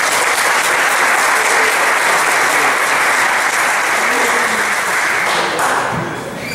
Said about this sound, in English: So please, everyone, a round of applause.